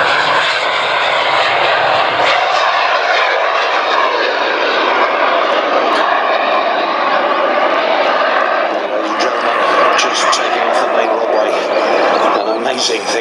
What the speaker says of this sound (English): The incredibly important, incredibly historic Messerschmitt ME-262.